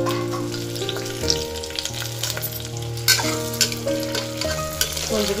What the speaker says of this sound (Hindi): ब्राउन हो चुका है प्याज, अब कुंदरी को डाल देते हैं।